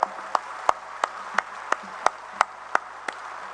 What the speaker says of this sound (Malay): Tepukan bergemuruh juga untuk mereka.